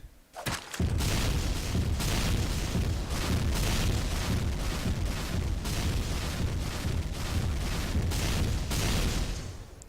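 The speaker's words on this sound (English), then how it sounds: "But I got the explosions working." Dense, continuous rumbling of explosions and booms from a crashing mothership in a Team Fortress 2 map, loud and sustained with rhythmic pulses throughout, without any voices.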